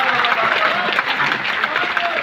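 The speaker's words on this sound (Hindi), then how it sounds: "मेरे जवाब देने के बाद ताली बजाना" Audience applause at a live comedy night in Lucknow, a dense, sustained wash of clapping from a crowd that stays at an even level throughout.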